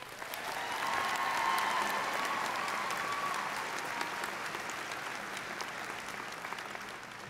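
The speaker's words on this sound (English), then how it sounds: "Let's give a final round of applause to all of our special graduates." Audience applause for graduates at a college fall graduation ceremony, a dense crowd of clapping that swells within the first second, holds steady, then slowly thins toward the end, with no talking over it.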